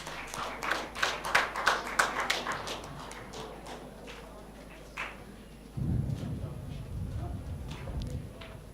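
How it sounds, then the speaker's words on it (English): Scattered clapping from a pharmacy workshop audience, a handful of distinct claps that thin out after a few seconds, followed by a low rumbling background. "Give a big round of applause."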